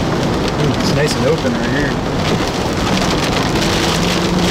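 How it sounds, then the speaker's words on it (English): Heavy rain pours down during a tornado storm chase, a loud dense roar on a vehicle, steady throughout, with someone talking briefly over it. "we got rain, new rain curtains coming in from the south"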